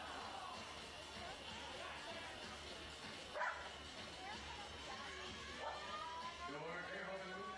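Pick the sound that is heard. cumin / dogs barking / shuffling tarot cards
dogs barking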